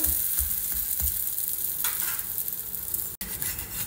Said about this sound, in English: Allow it to cook on a low to medium flame and then gently flip it over.